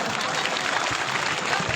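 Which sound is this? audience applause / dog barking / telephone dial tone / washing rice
audience applause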